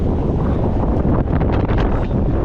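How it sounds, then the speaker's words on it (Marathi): Strong storm wind at sea roars over a fishing boat, a loud, steady, buffeting rush that blows straight across the microphone. "आता वारा बघा किती जोराने वारा सुटला आहे."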